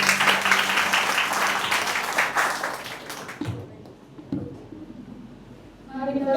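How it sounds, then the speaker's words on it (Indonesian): Applause from a church congregation at an anniversary service in Tangerang, a dense burst of clapping that runs for about three seconds, then breaks off into quieter room sound. "Mari kita berikan tepuk tangan sekali lagi."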